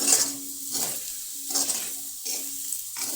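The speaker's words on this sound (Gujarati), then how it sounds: "આ રીતે બટેટાને હલાવતા રહેવાનું" Potatoes sizzle steadily in a pan while a utensil scrapes and stirs them in regular strokes, about five distinct passes over the continuous frying hiss, close and moderately loud.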